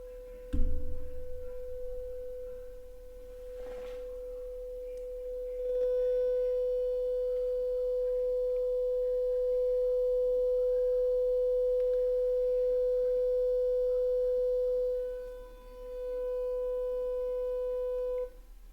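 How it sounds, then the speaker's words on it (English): A steady 500 hertz sine tone plays from a cell phone held in hand, holding unbroken for about fifteen seconds, a brief dip near the end, then resuming; no talking over it. "I've got a cell phone in my hand that I am going to set to 500 hertz"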